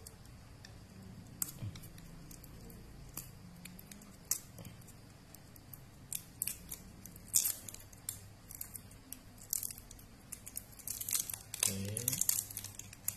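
Plastic packaging being cut open with scissors, giving faint crinkling, snips and tearing ticks scattered through the quiet, while a person speaks briefly at the start.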